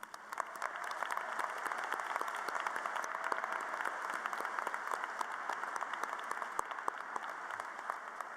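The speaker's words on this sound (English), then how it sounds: "Join me in giving this dedicated group of individuals a round of applause." A graduation audience at a high school commencement applauds faculty members with a steady, even round of clapping throughout the large crowd, continuous and moderately distant.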